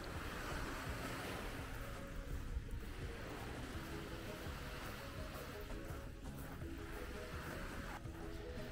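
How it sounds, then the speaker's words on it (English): Sea waves wash onto the shore at Roma Beach in Mamaia Nord, a steady, fairly faint roar of surf with a soft hiss of wind over the microphone and no clear voices. "I turned the camera towards the water to show you the waves."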